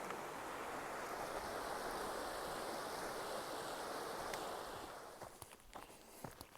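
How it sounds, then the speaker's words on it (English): A small stream or creek rushes steadily near a footbridge on a trail, a constant broadband wash that thins out near the end as footsteps and light knocks appear. "Crossing another nice little stream or creek, and got another bridge to walk on."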